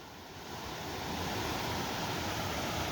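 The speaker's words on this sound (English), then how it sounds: "Bissett Creek flowing down into the river of Ottawa." Bissett Creek flows beneath a bridge on its way into the Ottawa River on a snowy day, making a broad, steady rushing wash that swells slightly at first and then holds constant.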